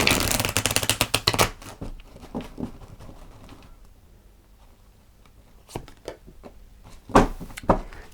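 Tarot cards are shuffled by hand in a quick riffling burst, followed by softer, sparse card taps and slides, then a few more brisk shuffling flurries close by with no talking.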